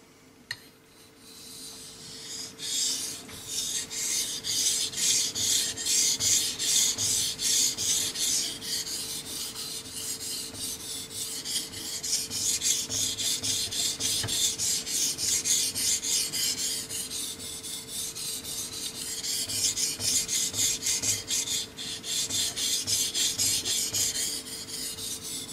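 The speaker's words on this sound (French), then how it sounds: "on va venir affûter notre lame" Straight razor blade stroked back and forth over a Belgian coticule whetstone coated in slurry, a steady close rasping scrape that repeats for the whole stretch with no talk.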